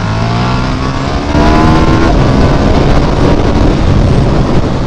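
A 2018 KTM Superduke 1290 R motorcycle accelerates hard on a test ride, its engine roaring loud and close as the pitch climbs steadily, with no voices.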